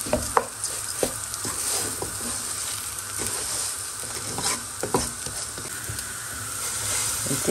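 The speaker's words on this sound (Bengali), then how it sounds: "একটু ভেজে নিচ্ছি যতক্ষণ পর্যন্ত না সুন্দর একটা স্মেল বের হয়" Whole spices for bhuna khichuri fry in hot oil with a steady bright sizzle, while a spoon stirs and scrapes the pan in repeated close clicks, with no voices.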